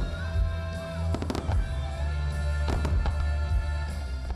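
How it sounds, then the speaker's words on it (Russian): A fireworks display at the Zvezdopad pyrotechnics festival in Smolensk, with loud booming bursts and crackling volleys over a steady rumbling bed of sound. "Фейерверк должен был быть не просто красивым, но и выстреливать синхронно с музыкой."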